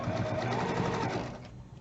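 A sewing machine stitches fabric binding in a steady, fast, continuous whir close by, easing off and quieting in the last half second.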